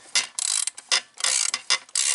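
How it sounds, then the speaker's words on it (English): Ratchet loosening bolts on the fuel bowl of a 1996 Ford F250 Powerstroke, a run of quick close clicking bursts with short pauses between them, no talk. "And just loosen the bolts."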